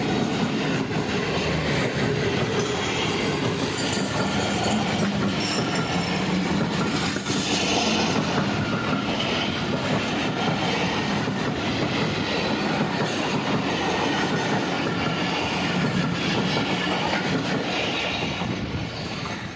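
A train rolls through Walton Railway Station in Lahore, a loud, steady roar of wheels and carriages with rhythmic clickety-clack running the whole time and a faint squeal of wheels on rail.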